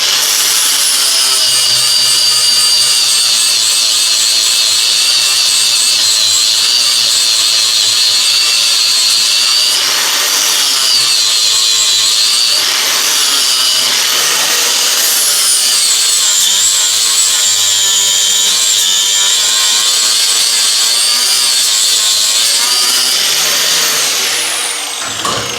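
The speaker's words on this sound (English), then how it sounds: "Now I'm just going to use a 60 grit flat disc on my angle grinder," Angle grinder with a 60 grit flat disc grinding steel welds on a guillotine tool, a loud continuous high whine that dips and rises in pitch as the disc bites and eases off, running unbroken with no speech.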